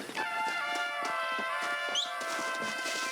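A horse in Red Dead Redemption trots along with steady, evenly spaced clip-clop hoofbeats over a constant game background, with no talking.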